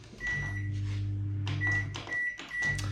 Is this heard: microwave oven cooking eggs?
yes